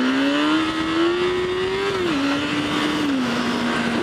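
A motorcycle engine holds a light, steady throttle through a wheelie, a loud close drone whose pitch rises slightly, then dips twice as the bike shifts into second gear.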